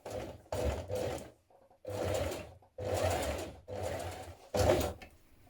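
A sewing machine top-stitches along a fabric edge in five bursts of rapid, whirring needle action, each lasting about a second, separated by short pauses, close and moderately loud with no talking.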